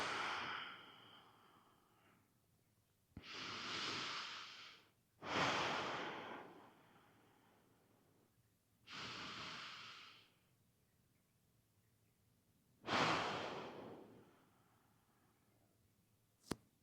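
Four slow, deep breaths are taken while resting in child's pose during a pre-swim dryland stretch, each long airy inhale or exhale close and soft with quiet pauses between.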